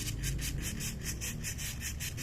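Sandpaper rubbed by hand along a fishing rod joint, worked slowly upward from the black section, giving a steady, close, rhythmic scratching with regular back-and-forth strokes and no talk.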